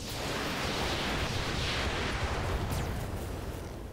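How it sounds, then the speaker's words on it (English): Mech weapons fire together in the BattleTech RogueTech mod, heard as a dense, loud roar of blasts and explosive rumble that fills the whole span with no clear gaps. "We're going to fire with everything."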